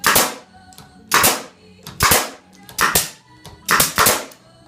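Five sharp, loud air-gun dry fires on a frame assembly jig, each a crisp snap with a brief hiss, spaced about a second apart, close by with faint clicks between them and no speech.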